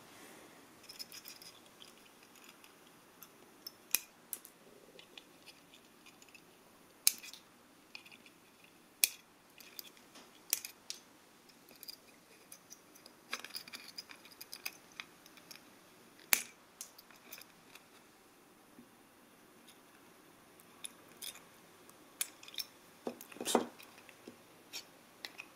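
Cutters snip the wire legs of small red LEDs while a simple grow light is assembled: a sparse series of quiet, sharp clicks and ticks spread out over a near-silent background, with no talking.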